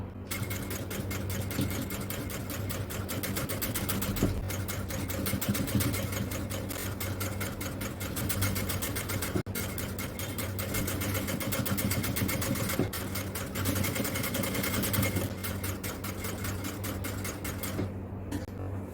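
Sewing machine running steadily for the whole stretch, stitching lace onto an XL-size jalabiya at piping seams; a continuous close, loud mechanical hum with rapid repeating needle clatter and brief pauses.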